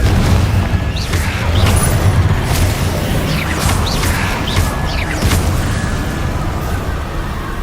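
Confringo fire-blast spell explosions in Hogwarts Legacy: a loud, continuous roar of booming blasts and crackling bursts, with several sharp impacts punching through the dense rumble across the whole stretch.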